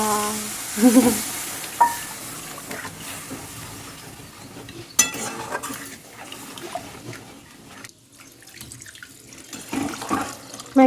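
Water is poured into a cooking pan holding a spiced coconut-milk gravy for prawn curry, a short splashing pour and then steady simmering and stirring noise, with no talking.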